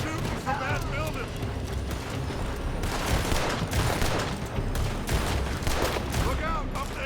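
Rapid gunfire cracks from a building during a Red Dead Redemption 2 shootout, with dense, overlapping shots in a continuous barrage, loud and close, and voices speaking over the battle.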